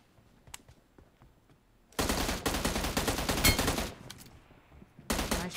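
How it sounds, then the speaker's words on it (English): Gunfire in a team deathmatch video game: dense, loud bursts of rapid shots, one long volley of about two seconds then a short burst, separated by quieter stretches with faint ticks. "Gotta love the sound of a headshot."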